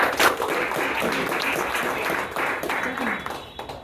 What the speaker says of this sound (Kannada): ಮೇಲಿಗೆ ಒಂದು ಜೋರ ಚಪ್ಪಾಳೆ ಕೊಡ್ಬೋದು